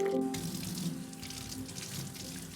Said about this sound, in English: Wash the chicken with water.